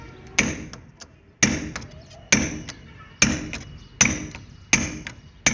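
A hammer driving a nail in a tight, risky spot, six sharp ringing blows at an even pace of about one per second, each with a metallic ping and short decay, close and loud with no talk.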